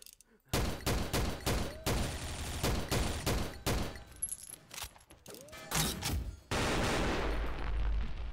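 Gunfire in the shooter game XSHOT, with rapid bursts of loud automatic shots cracking in quick succession, brief pauses between volleys and a long sustained spray near the end.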